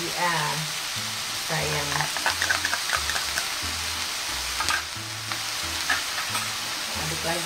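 Chicken with paprika and black pepper sizzles and fries in a pan while it is stirred, with scraping strokes over the steady crackle. Someone speaks briefly.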